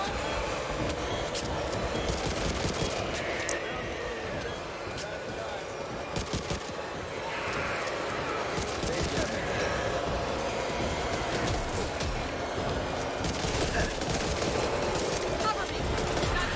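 Bursts of rapid gunfire from the co-op zombie shooter Back 4 Blood crackle repeatedly over a rumbling game backdrop, with players talking throughout.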